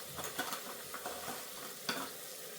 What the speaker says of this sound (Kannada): ನಾನು ಹಸಿ ಬಟಾಣಿ ಹಾಕ್ಕೊಂಡಿದ್ದೀನಿ. ಹಸಿ ವಾಸನೆ ಹೋಗುವವರೆಗೂ ನಾವು ಫ್ರೈ ಮಾಡ್ಕೊಳ್ಳೋಣ